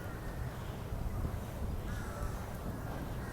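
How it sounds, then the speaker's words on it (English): Crows caw a few times in Lumphini Park, Bangkok, over a noisy outdoor background with steady wind or distant traffic rumble. "listening to the sounds of the birds"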